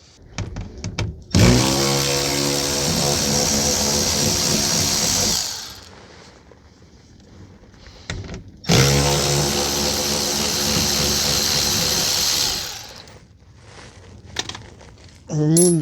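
A power tool backs out the 8mm screws of the access cover under a 2024 Mazda CX-50 AWD 2.5, two loud sustained whirring bursts of several seconds each, separated by quieter handling sounds.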